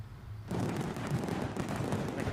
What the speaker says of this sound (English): A few fireworks.